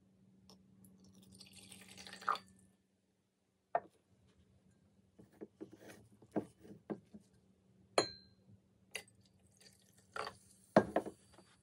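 Two liquid solutions combined and poured into a glass beaker, with a trickling pour early on followed by scattered drips, small splashes and clinks of glass, close and fairly quiet against a low steady hum.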